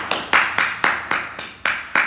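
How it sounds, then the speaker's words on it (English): Rhythmic group clapping at a primary school assembly for birthday children: eight sharp, evenly spaced claps close together, bright and loud with no voices. "Give them a clap."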